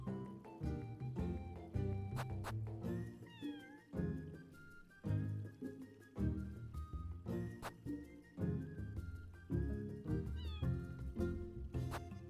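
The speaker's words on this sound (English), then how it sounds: "I hear a kitty." Cat meows in a busy mix, with high wavering cries repeating through a dense, loud music-like bed that runs throughout.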